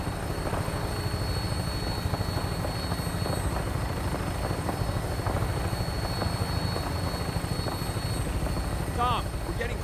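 Vertibird aircraft in the video game Fallout 4, its rotors beating in a steady, continuous chop throughout with a constant engine whine above, fairly quiet.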